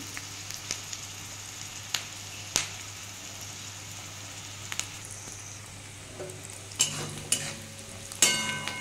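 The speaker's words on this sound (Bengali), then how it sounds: "পেঁয়াজটা বন্ধুরা লাল লাল করে ভেজে নেব, পেঁয়াজ আর রসুন" Onion and garlic frying in a pan: a low, steady sizzle with sparse spatula taps, then a cluster of louder scraping and clinking toward the end, close by.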